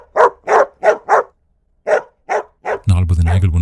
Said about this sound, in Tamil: நாற்பது நாய்கள் ஒன்றாக சேர்த்து குறைத்தால் எப்படி இருக்குமோ அப்படி ஒரு கலவையான குறைப்பு சத்தம் என் காதுக்குள் கேட்டது